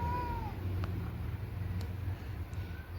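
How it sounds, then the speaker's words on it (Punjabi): A cat meows a few times, faint and brief, against a steady low rumble of background noise. "ਦੇਖ ਕੇ ਮਿਆਉ ਮਿਆਉ ਕਰਨ ਲੱਗ ਗਿਆ"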